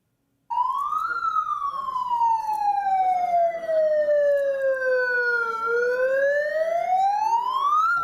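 A single loud siren, blared by protesting fish harvesters at a press conference with the federal environment minister, starts abruptly and then sweeps slowly down and back up in pitch, sustained and close.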